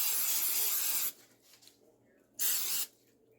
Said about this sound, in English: we're going to spray our, spray our pan